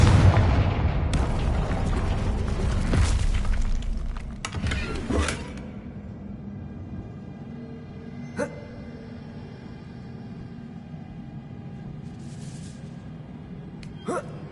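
A Confringo blasting spell detonates in Hogwarts Legacy, a loud booming explosion with a crackling tail that fades into a quiet room, followed by a few small later pops.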